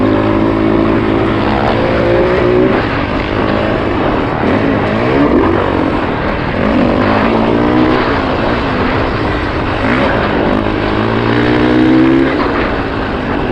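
A 2021 Honda CRF450R dirt bike engine revs loud and close, climbing and dropping in repeated surges as the rider works through throttle and gears.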